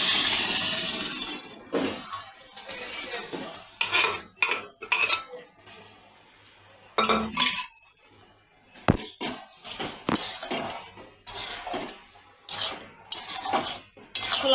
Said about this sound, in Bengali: ছোলার ডালটা নেড়ে ছেড়ে দিলাম